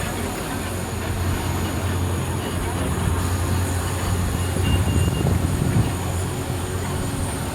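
Steady rumble of a tram rolling along its track, a constant low mechanical drone with faint wheel squeal and some murmuring voices underneath.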